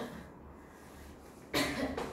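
A single short cough from a student in a math lesson, bursting out near the end after quiet room tone.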